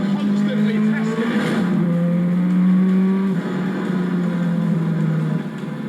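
An Ariel Atom 4R driven hard, its engine droning loud and close with shifting pitch as it pulls through gears, a steady mechanical roar with a voice talking over it.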